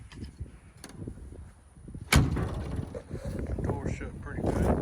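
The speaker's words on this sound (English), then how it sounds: "Door shut pretty good." The door of a 1955 Chevy slams shut with a single solid thump partway through, close by, with outdoor wind noise and someone talking before and after.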